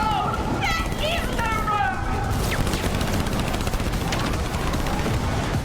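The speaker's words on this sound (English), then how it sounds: "One of you is driving, one of you is shooting a gun." Rapid bursts of gunfire from a driving-and-shooting video game crackle continuously at a steady loud level, mixed with game effects and a voice talking over it.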